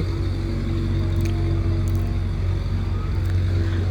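Loud, steady rumble of road traffic from nearby vehicles, a continuous low drone with faint passing sounds and no speech.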